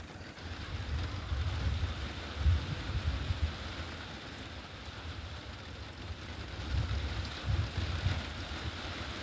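Heavy rain falls on an outdoor chicken run, a steady, fairly faint broadband hiss with low rumbling gusts of wind swelling now and then.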